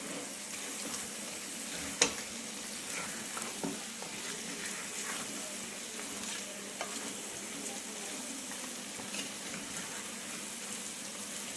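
Spicy Telangana-style chicken fry cooks in a pan, with a steady broadband sizzle under a few sharp clinks and scrapes as a spoon stirs it. The sound is close, with no voices.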